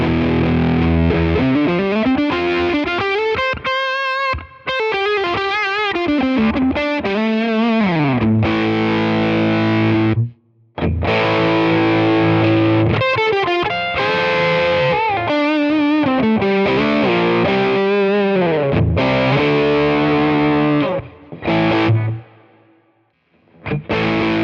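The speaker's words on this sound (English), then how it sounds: "Here's the Tone King pedal." Electric guitar played through a Tone King preamp pedal with volume and tone cranked, a loud, heavily overdriven tone with sustained riffs and lead lines and only brief pauses.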